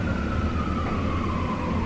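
A siren wails steadily in the distance outside, a single drawn-out tone drifting slightly in pitch over a low background rumble.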